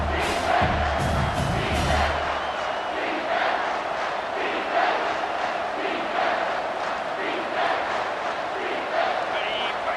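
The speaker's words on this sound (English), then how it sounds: "This crowd knows when to bring it." Loud, continuous roar of a packed football stadium crowd at an LSU versus South Carolina game, a dense wall of cheering and yelling that holds steady for the full stretch.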